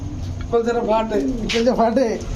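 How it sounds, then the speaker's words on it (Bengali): Pigeons coo at a busy pigeon sale, low rolling warbles repeating close by, with a voice talking over them. "এই টাইপেরই অনেক কবুতর আছে যা আছে ইসমাইল ভাই"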